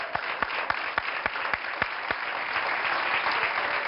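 Studio audience applause for a guest psychologist on a TV talk show, several sharp, distinct claps rising into a continuous wash of clapping from many people at moderate volume.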